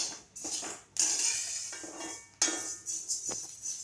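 Roasted pearl millet tipped into a big metal pot, with rushing pours and clattering scrapes against the vessel in several close, uneven surges.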